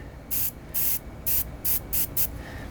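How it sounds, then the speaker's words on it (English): Clear gel coat sprayed over a fiberglass metal-flake boat repair, heard as six sharp bursts of hissing spray, each about a quarter second long, loud and close with short gaps between. "Now I'm going to take that clear gel coat again and just spray it over the"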